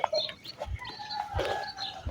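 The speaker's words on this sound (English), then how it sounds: "It's early in the morning. You can hear the roosters." Roosters crow early in the morning near a market in Mapalo, Zambia, a few drawn-out calls and clucks at moderate distance over quiet ambient background.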